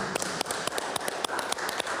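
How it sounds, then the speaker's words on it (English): A warm round of applause for a presenter at a port industry event, heard as a steady wash of many hands clapping with sharper individual claps standing out, moderately distant and fairly even throughout. "a warm round of applause for Miriam"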